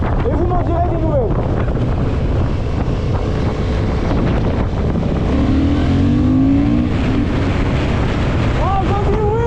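Honda CB750 Hornet 2023 motorcycle accelerating hard close up, a loud continuous engine roar with rising tones through gear changes, buffeted by heavy wind noise, with a voice exclaiming briefly near the end.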